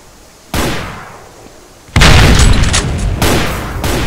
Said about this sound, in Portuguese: Ó, o barulho de tiro.